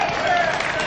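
Audience applause at a senior summit, a dense, steady patter of many hands kept up for a moment, with a voice speaking over it.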